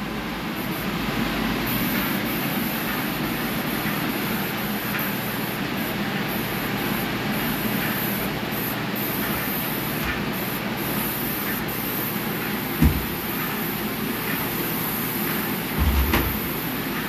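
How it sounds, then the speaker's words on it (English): A Tritech airless sprayer applies Renner coating, giving a steady loud hiss that runs unbroken throughout, with a couple of faint knocks near the end. "So, I'm going to spray out my flats first, so they're wet."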